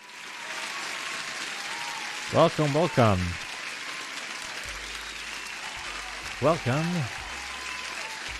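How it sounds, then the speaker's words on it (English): Dense applause fills the background like rain, continuing steadily while a voice speaks briefly twice over it. "another applause for a regular."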